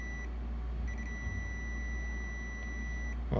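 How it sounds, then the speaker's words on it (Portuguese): A multimeter's continuity beep sounds while testing a capacitor on a circuit board, a steady high electronic tone that cuts off and resumes, over a constant low hum. "Temos um capacitor aqui bipando dos dois lados."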